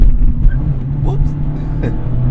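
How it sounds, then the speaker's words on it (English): A 2024 Mazda Miata ND3 Club soft top with the BBR package grinds its second gear while driving: a steady, close engine drone with two brief gritty scrapes partway through. "Just grinding my second gear."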